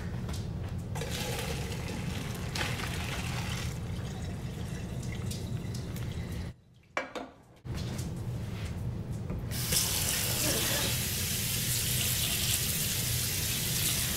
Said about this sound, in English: It's time to give this cooked spaghetti a little rinse.